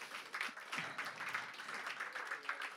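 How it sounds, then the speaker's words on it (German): Audience at a jazz festival in Berlin giving a faint, brief round of applause, scattered clapping from a distant crowd lasting a few seconds. "Und ich finde, die haben auch einen kleinen Applaus verdient."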